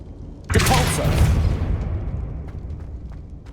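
A Depulso force spell cast in the Hogwarts Legacy video game bursts out as a loud, sudden whooshing blast with a booming low rumble that slowly fades over a few seconds.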